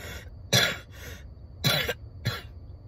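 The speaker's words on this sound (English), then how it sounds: "I can't even get my cough out all the way like I want to because my body hurts so bad." A sick person coughs three times close to the microphone, short raspy bursts separated by quiet pauses.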